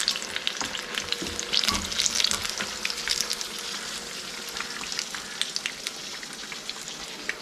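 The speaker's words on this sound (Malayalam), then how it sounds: "ഇതുപോലെ ബാക്കിയുള്ള 2 പീസും കൂടെ ഞാൻ ഫ്രൈ ചെയ്തെടുക്കാം" Battered chicken-stuffed chilli bajji fry in hot oil with a steady crackling sizzle and dense popping, loudest early then settling to an even bubbling hiss, with no speech.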